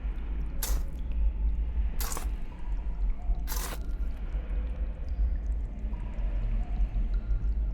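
Breaking up compact soil in the video game Hob's Barrow: three separate sharp, crunchy scraping impacts spaced about a second and a half apart over a low rumbling background.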